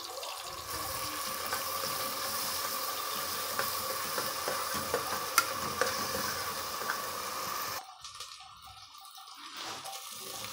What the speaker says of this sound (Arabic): حطات بصل او حطات توم مع البصل ونقلبه كويس